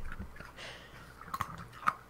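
A dog chews a treat right beside a microphone, producing soft wet crunching and biting clicks in an irregular rhythm, close and fairly quiet, with no one speaking.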